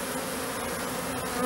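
A honey bee swarm on the ground hums in a steady, dense buzz, close and continuous, with the insects crawling inside in early spring.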